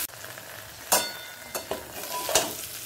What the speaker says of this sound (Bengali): মিশিয়ে নিয়ে লো ফ্লেমে ভাজতে ভাজতে আলুটাকে কিছুটা সেদ্ধ করে নেব